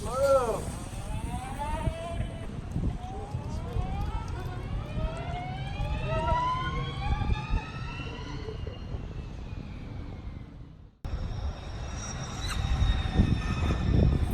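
A Lightning Strike electric sport motorcycle whines as it accelerates, its rising motor tone climbing steadily over wind noise, then cutting off abruptly and resuming after a brief gap.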